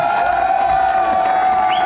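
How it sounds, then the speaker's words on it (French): Comedy club crowd at a Festibaloche stand-up night cheering and whooping for a first-time performer, a dense, steady roar of voices with scattered applause close by throughout. "Des applaudissements là, donner de l'amour"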